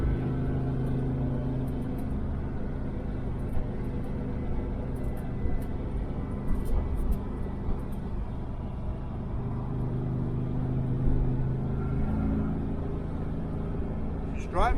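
A 1968 Chevelle Nomad on the road with its transmission struggling to shift into third, a steady low engine drone holding at a constant pitch, while someone talks over it.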